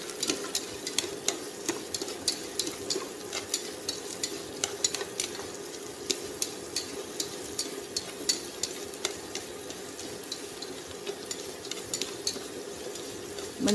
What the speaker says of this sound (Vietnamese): Mình xào sơ thôi, mình không cần chiên.